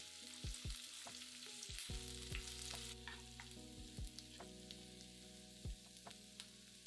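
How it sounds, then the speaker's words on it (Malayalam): Halved shallots, slit green chili and curry leaves sauté in coconut oil for a Kerala ulli theeyal, giving a steady close sizzle with several scraping stirs of a spatula against the pan. "അതിലേക്ക് 250 ഗ്രാം ചെറിയുള്ളി 2ആയി കീറിയത്, ഒരു പച്ചമുളക് കീറിയത്, കുറച്ച് കറിവേപ്പില ഇത്രയിട്ട് നന്നായിട്ട് വഴറ്റുക."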